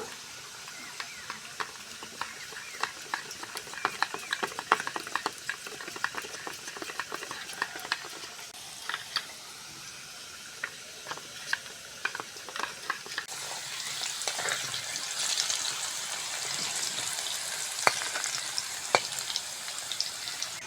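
Potatoes fry in a pan for a vegetarian chhana dalna, giving a steady close sizzle with crackles and stirring scrapes that grows brighter and denser toward the end, with no talking.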